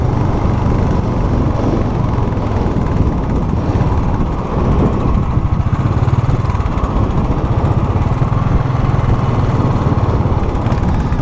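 A Royal Enfield motorcycle engine accelerates onto a motorway, a loud, steady, close drone with a vibrating low rumble that carries unbroken throughout, mixed with road and wind noise and no talk.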